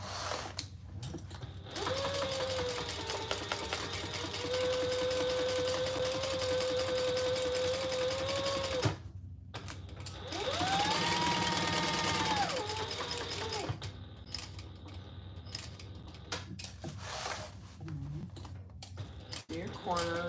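A sewing machine runs basting stitches on a Haralson belt bag near a D-ring, whirring in two sustained bursts with a pause between, then stopping; a voice talks over the stitching at times.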